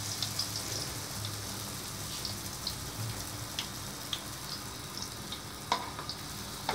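Sfenj, a Kabyle beignet, frying in hot oil, a steady close sizzle with a continuous crackling hiss. Occasional sharper pops and spits stand out above the sizzle, with no talking.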